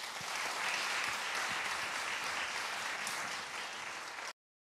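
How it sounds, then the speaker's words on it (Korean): A seated audience in the Woomyeon Hall of the National Gugak Center applauds to open a traditional Korean jeongga and gasa performance, with dense, steady clapping held at full strength for about four seconds and then cut off abruptly. "본격적인 공연 무대를 여러분의 큰 박수로 청해 보도록 하겠습니다"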